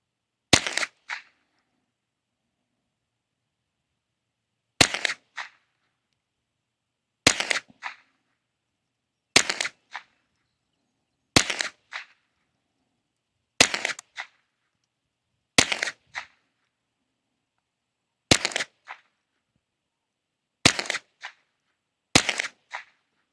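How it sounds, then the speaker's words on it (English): Bear Creek Arsenal BC-201 rifle firing CCI rounds at a range, about ten sharp, loud gunshots spaced two to three seconds apart, each with a short echo, with no talking. "Now what I'm going to do is just shoot at the middle target and see how this goes."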